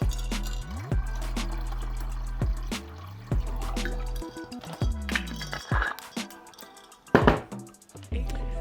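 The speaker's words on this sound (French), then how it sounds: "il vous suffit donc tout simplement de le remplir avec votre eau comme vous le souhaitez" Tap water is poured into the tank of an Elechomes humidifier. Gurgling glugs come in uneven bursts with dripping and splashes, sitting close and fairly quiet, with no talking.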